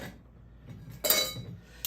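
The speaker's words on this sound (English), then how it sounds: "put some ice in the glass. We're using ice cubes" Ice cubes clink into a glass while a Hugo Spritz is built on a hot summer day, giving a bright burst of close glassy knocks and rattles that fades out, then one short final tap, with no talking.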